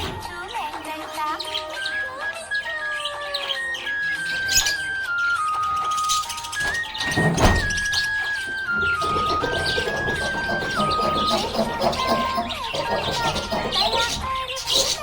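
A happy budgie (parakeet) chirps in quick, bright bursts scattered throughout, mixed with a melodic tune playing underneath.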